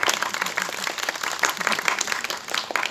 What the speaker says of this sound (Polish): Także brawa, bardzo wam dziękuję.